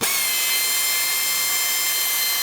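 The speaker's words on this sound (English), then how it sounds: "drill a hole straight through" A riveting drill bores a hole straight through a piece of aluminum, a loud, steady high-pitched whine held throughout with no talking.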